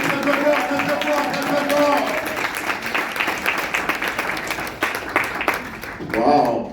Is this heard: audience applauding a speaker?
yes